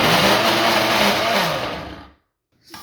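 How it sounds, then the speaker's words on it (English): A blender purees a room-temperature ginger and chili base in a loud, steady whir that runs close for about two seconds, then cuts off into brief silence before a short restart at the end. "Like that, you just puree it"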